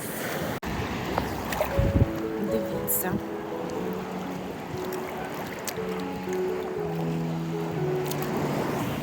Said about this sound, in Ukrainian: Такі приємні хвилі. Не б'ються.